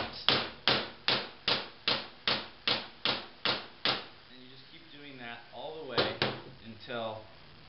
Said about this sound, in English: this is your tower and this is the bushing, and we just pound it in